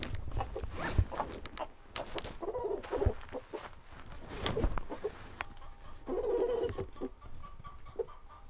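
Chickens clucking in a hot, dry Texas yard, intermittent clucks and short calls of varying loudness spread across the stretch, mixed with scattered handling rustles and clicks nearby.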